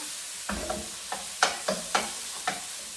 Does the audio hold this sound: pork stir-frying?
yes